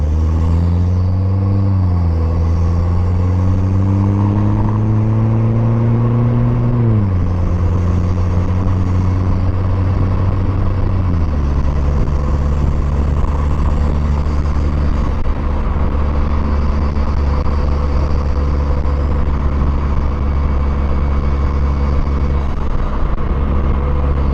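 A Vanderhall Venice three-wheeler on a canyon road, its engine droning loud and close with rising tones that drop at each gear change, under a constant rush of wind and road rumble.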